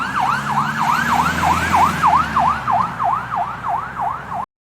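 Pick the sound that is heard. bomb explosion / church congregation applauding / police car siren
police car siren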